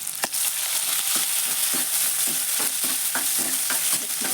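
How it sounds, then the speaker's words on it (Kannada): Onion and curry leaves sizzling in hot oil in a pan for tomato huli, a steady close crackle with repeated soft stirring scrapes and no voices. "ಇವಾಗ ಈರುಳ್ಳಿ ಮತ್ತು ಕರಿಬೇವು ಎರಡು ಒಟ್ಟಿಗೆ ಹಾಕ್ತಿದ್ದೀನಿ."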